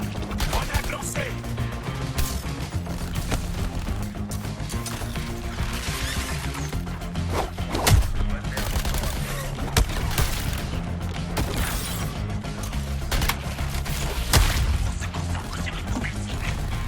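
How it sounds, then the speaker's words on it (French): Grenade blast amid a chaotic firefight in the Suicide Squad: Kill the Justice League video game, dense crashing bursts and booms over a constant loud layer of combat noise and music, with sharp impacts near 8 and 14 seconds. "Grenade lancée."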